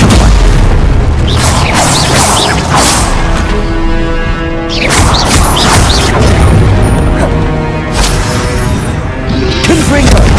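Rapid spell combat in the Hogwarts Legacy video game, with Stupefy impacts landing as loud, dense booms, whooshes and crashes that barely let up over ten seconds, under occasional shouted voices.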